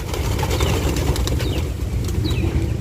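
Pigeons on a house rooftop give soft coos and brief wing flaps, fairly faint over a steady outdoor rumble, with small bird chirps now and then and no talk.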